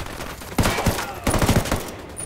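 Video game gunfire rattles in quick bursts, rapid automatic shots clustering in two volleys, loud and close against a background of game ambience.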